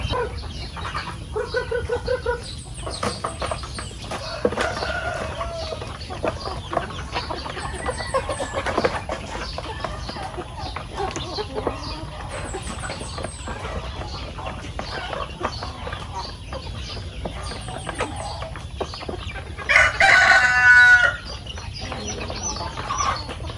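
Native chickens on a farm cluck steadily and close by, with one loud rooster crow standing out near the end.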